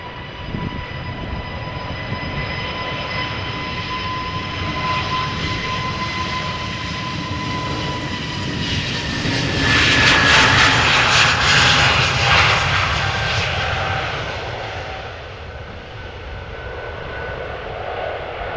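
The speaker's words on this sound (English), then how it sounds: "EasyJet Neo spooling up as we speak." An EasyJet Airbus A320neo, about five years old, spools up its jet engines for takeoff from the runway at Amsterdam Schiphol, a steady whining roar with tonal hums that swells to a broad rush midway, then eases slightly, with no talking.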